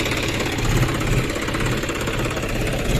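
A John Deere 5105 4x4 tractor pulls a trolley over ground where another tractor got stuck; its diesel engine chugs in a steady, rough, knocking rhythm close by with no talk.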